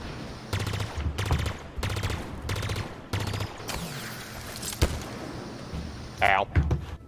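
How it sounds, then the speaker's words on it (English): Rapid shotgun and pistol gunfire in a video game: several close bursts of shots in quick succession, separated by short gaps, with a louder cluster of blasts near the end and faint voices underneath. "What's up with the shotgun pistol combos?"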